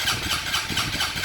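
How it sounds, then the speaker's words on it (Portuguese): A fuel-injected motorcycle's starter cranks the engine over and over without it catching, because the fuel pump isn't delivering fuel to the injector; a steady, dense whirring churn runs throughout, close and fairly loud, with no talking. "Então a moto não vai pegar, é como se não tivesse combustível, certo?"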